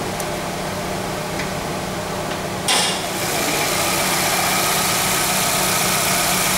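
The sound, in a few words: car engine idling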